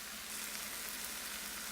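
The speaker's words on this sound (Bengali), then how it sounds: "এবার এটা আমি 1 মিনিটের জন্য একটু ভেজে নেব।" Garlic paste frying in a pan for butter chicken gives a steady, even sizzle with a soft hiss throughout, quiet and close, with no one speaking.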